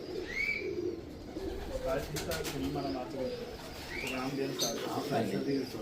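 Pigeons coo softly in a pigeon loft in Lahore, a low, rolling murmur with occasional chirps and wing flutters, while someone talks over them nearby.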